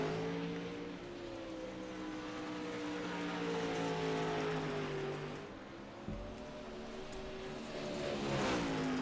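A dirt track race car at Lanier National Speedway heads out on its out lap, its engine droning at a distance and rising and falling in pitch as it accelerates and eases off, steady and moderately loud.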